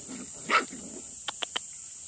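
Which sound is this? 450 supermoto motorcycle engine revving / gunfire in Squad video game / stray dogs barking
stray dogs barking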